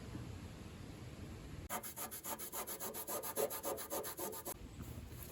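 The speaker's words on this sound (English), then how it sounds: "So now I'm using my 3M pad on the Dremel." A Dremel rotary tool fitted with a 3M abrasive pad scrubs rust off the metal of a vintage Grip Loc tackle box, a rapid pulsing rasp lasting about three seconds, close by, with no speech.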